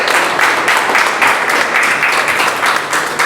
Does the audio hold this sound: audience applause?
yes